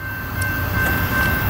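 A CSX QO28 intermodal freight train from Atlanta bound for Chicago rumbles past in Georgia, a loud, steady roar of rolling wagons heard alone.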